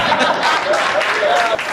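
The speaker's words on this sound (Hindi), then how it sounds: "ऐसे ही ताली बज गई जैसा आपने बजाई।" An audience at a Hindi poetry recital bursts into applause, a dense, loud clapping that carries on steadily for the whole short stretch, with faint murmurs mixed in.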